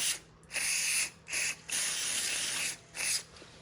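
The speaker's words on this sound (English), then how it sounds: "get some parts cleaner or some carb cleaner, anything like that, and just spray this area down" An aerosol can of carb cleaner sprays in several long hissing bursts, loud and close, separated by short pauses, cleaning a small snowblower engine.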